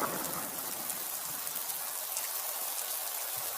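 Cartoon-style rain falls in a steady, even hiss of dense droplets, soft and unbroken, with no voices over it.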